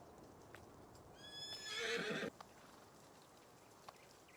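A horse in a video game gives a bright, whinnying neigh in the middle of the stretch, with soft hoof clops around it, all fairly quiet against a steady low background.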